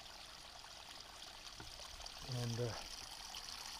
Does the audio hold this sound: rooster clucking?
no